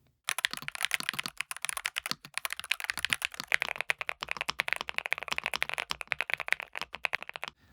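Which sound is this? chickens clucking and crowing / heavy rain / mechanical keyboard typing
mechanical keyboard typing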